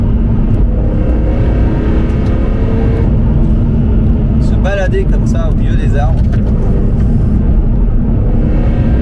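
A CSL car's engine resonates as a steady, loud low drone while driving through trees, with a person talking over it throughout.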